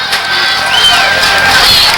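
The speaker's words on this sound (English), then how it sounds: "Crowd's making some noise for the Dogs defense." A crowd at a 2003 high school football game between Winder Barrow and Westlake cheers loudly for the Dogs defense, with a steady roar of voices and some shouts and whistles.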